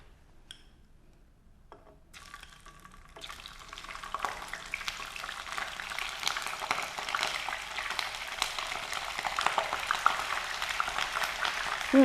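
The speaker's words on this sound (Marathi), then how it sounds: "आपण कोबी तळून घेणार आहोत." Cabbage frying in hot oil as part of a Maharashtrian flower-batata rassa preparation, starting quiet with a few clinks, then a dense steady sizzle that builds from about four seconds and keeps crackling loudly to the end.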